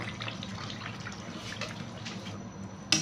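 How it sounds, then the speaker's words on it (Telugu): Water is poured into a pan of egg Mughlai curry on low heat, about half a glass, giving a soft continuous splashing pour that fades out, with a brief clatter at the end. "కొంచెం వాటర్ వేసుకుందాము ఒక హాఫ్ గ్లాస్ వేస్తున్నానండి ఎక్కువ కాదు"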